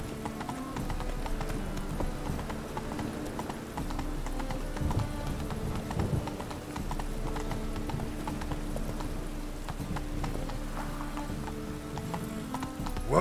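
Horse hooves clip-clopping at a steady trot in The Witcher 3, the rhythmic beats continuous under game ambience and music, with a brief whinny.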